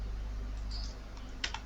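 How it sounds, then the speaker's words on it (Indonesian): A short run of computer keyboard typing, quick soft key clicks close by over a low steady hum, a few sharper taps near the end, with no talking. "Kita ketikkan saja gpedit,"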